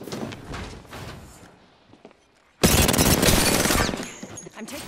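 Gunfire in the Apex Legends battle royale game: after a lull, a loud, sustained burst of rapid automatic shots erupts at close range and continues for a couple of seconds before tapering.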